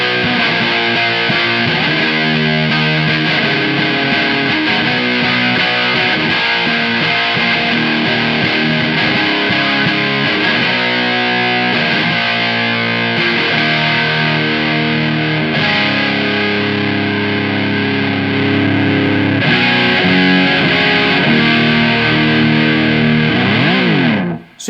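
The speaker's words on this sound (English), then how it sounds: "The Matcha is like a pie style fuzz" Electric guitar played through a Tone City Matcha Fuzz, a Big Muff–style fuzz pedal, giving a thick, saturated, sustained tone with chords and riffs ringing continuously and loudly throughout, no voices.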